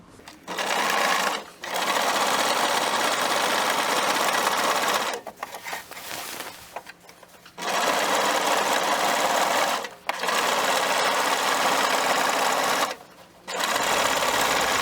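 Sewing machine stitching elastic shirring rows on a dress, running in loud sustained bursts of several seconds each, broken by short pauses and a quieter stretch of brief back-and-forth stitching.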